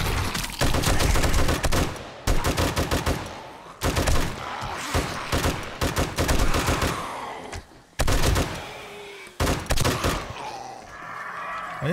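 Long rapid bursts of automatic gunfire in the video game 7 Days to Die, loud and close, broken by short pauses, with thuds and groans mixed in.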